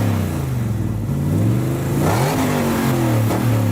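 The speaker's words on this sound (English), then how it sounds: "two different types of exhaust sounds, two different types of revving the engine" A car engine revs repeatedly through its exhaust, a loud, close, sustained growl that rises and falls in pitch with each blip of the throttle.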